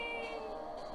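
A person imitates a cat's meow with a single drawn-out, tonal mewing call lasting about a second, fairly close and alone.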